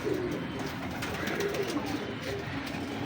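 A pigeon coos close by in soft, repeated low calls over a steady background hum, with no talking.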